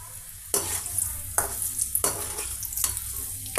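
Potato pieces for french fries frying in hot oil, a bright continuous hiss and bubbling sizzle that swells in waves as the pieces are stirred, close and steady throughout.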